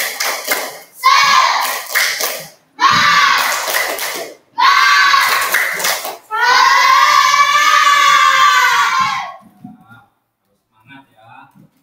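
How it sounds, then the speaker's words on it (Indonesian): Classroom of schoolchildren performing a rhythmic spirit clap chant, loud and close: bursts of synchronized clapping alternate with chanted group voices, ending in a long shouted cheer before fading to quiet murmurs. "Tepuk semangat."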